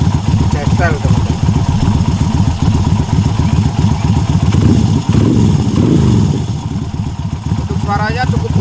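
A Kaisar Ruby 250cc motorcycle, custom-built in jetstel style, runs with a steady, fairly deep thumping engine pulse close by, while a person talks over it intermittently.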